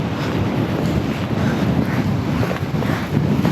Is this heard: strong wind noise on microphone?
yes